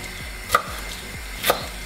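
A knife chops a small bunch of parsley for soup, with two soft knocks on the board over a faint steady background hum.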